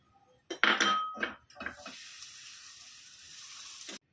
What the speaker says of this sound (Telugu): అలాగే కిస్మిస్ కూడా వేయించాలి.